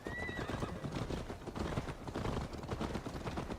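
Horses galloping in a Viking-era action video game, rapid clip-clop hoofbeats pounding continuously and up close, with a whinny near the start and dense rumbling movement throughout.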